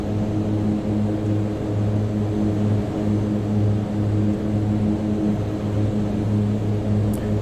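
Propellers and turboprop engines of an MU2 aircraft on a flight from Colorado Springs to Aspen: a loud, constant droning hum with a steady low tonal throb, heard close and continuous with no talking.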